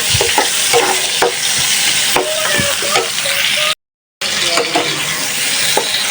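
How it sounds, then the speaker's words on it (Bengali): Onion, chopped tomato and spices sauté for a hilsa curry, with repeated spatula scrapes and taps against the pan over a steady sizzle, broken by a short silent gap. "মশলাটা ভালোভাবে কষায় নিছি সাথে একটা টমেটো কুচিও দিলাম"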